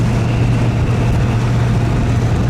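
A 1967 Chrysler Newport convertible cruises along with a steady low engine drone and road rumble, constant and close, with no talking.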